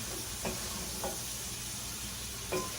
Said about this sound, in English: I'm gonna give those a nice little saute.